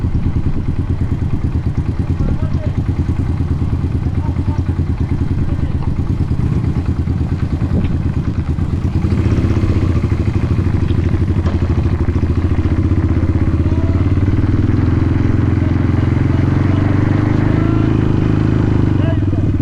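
Off-road motorcycle engine revved on the throttle with the clutch untouched during a basic off-road riding lesson, a steady mid-pitched rumble that swells louder and fuller about halfway through, with an instructor talking over it.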